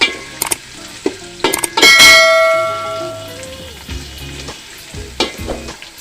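Onions fry in hot oil for khichuri, a crackling sizzle broken by sharp metallic clangs and scraping stirs, with one loud burst of hiss when more goes into the pan.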